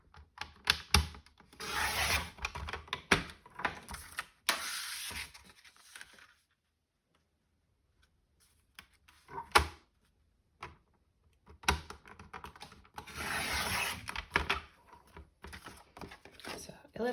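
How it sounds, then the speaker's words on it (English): A4 card being trimmed to 11 by 7 on a paper trimmer, with close scraping and rubbing strokes in two bursts separated by a quiet gap, and a voice talking at times. "we need to trim your A4 so that it measures 11 by 7"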